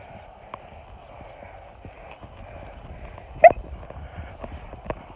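A horse's hooves cantering on a lunge line, faint irregular thuds and clops with one louder strike, heard at a distance over quiet background.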